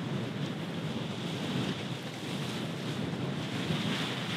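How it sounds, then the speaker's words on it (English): Ocean waves crash over stones on the Norwegian coast, a steady loud broadband wash of surf with wind buffeting the microphone throughout, with no speech. "the waves are just crashing over it."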